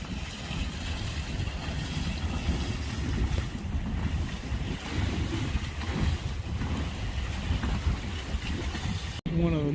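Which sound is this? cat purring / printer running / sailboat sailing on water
sailboat sailing on water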